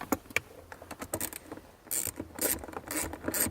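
A ratchet fitted with a 5/16 socket loosens the seat-cover screws in a RAM truck cab, giving close, quick bursts of clicking and rasping strokes with brief pauses between them.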